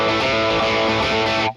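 Electric guitar run through a Line 6 Helix with the Studio Tube Pre preamp switched on, a dense sustained distorted chord ringing loud and steady before cutting off abruptly.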